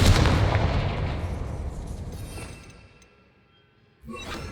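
A Confringo blasting spell explodes in the video game Hogwarts Legacy with a loud booming burst that rumbles and fades over a few seconds, followed by a brief fresh burst of sound.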